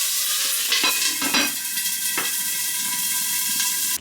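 A handful of gyoza frying in a big pan: a loud, close, steady sizzle with bursts of spitting crackle and stirring scrapes, cutting off sharply at the end.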